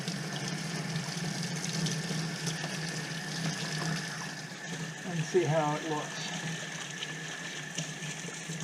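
Hot water running from a tap to rinse rusty carburetor parts from a Kawasaki KZ400, a steady splashing gush with a brief spoken comment partway through.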